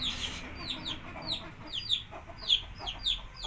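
A desi hen that has just laid an egg clucks repeatedly in quick, rising cackles, fairly close and clear, with faint farmyard background and no one talking.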